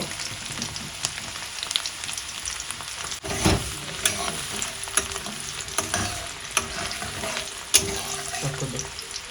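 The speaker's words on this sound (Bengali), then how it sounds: "রসুন আর আদাটা দিয়ে দিলাম এটা কিছুক্ষণ ভেজে নেব" Garlic and ginger fry in a pan with capsicum and onion for chilli chicken, giving a loud, dense sizzle with stirring scrapes and scattered crackles throughout, no voice.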